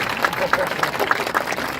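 Crowd applause at a Toronto Pride flag raising, a brief burst of scattered clapping from a gathered outdoor audience, fairly loud and uneven, with a voice briefly audible through it.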